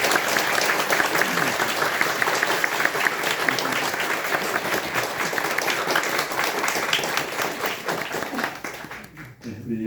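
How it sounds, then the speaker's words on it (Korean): Congregation in a church worship service applauding together, dense sustained clapping that fills the room for the full stretch, thinning and fading near the end. "오늘 처음이니까 박수 한번"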